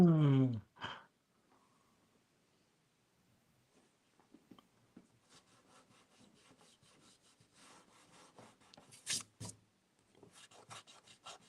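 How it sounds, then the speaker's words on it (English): A pencil drawing on paper, with soft scratchy strokes that are faint at first and then build into a series of short rubbing passes, following a brief burst of sound at the start. "I don't think there's a much better sound than the sound of your pencil on that paper right now"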